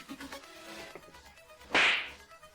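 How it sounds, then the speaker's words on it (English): A slap sound effect played back through a V8 soundcard: one sharp, bright smack with a brief swishy tail, loud and alone after quieter background noise. "That's a slap for sure."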